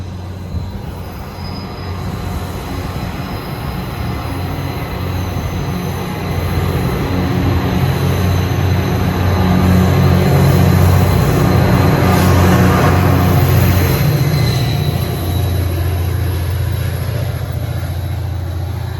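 An NJ Transit train departs Rutherford station toward Hoboken with a loud, continuous rumble of wheels on rail, rising and lingering close by, with faint squealing tones above.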